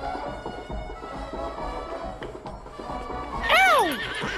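A horse gives a loud, wavering whinny near the end, after a stretch of faint hoof clops and background murmur.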